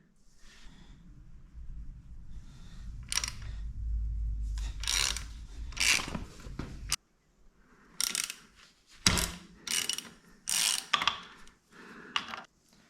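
A ratchet socket wrench with a 14mm socket works on the engine protection bolts of a Royal Enfield Himalayan 450 motorcycle. Close, quiet clicking bursts repeat over a low rumble, then come in sharper separate runs of ratcheting.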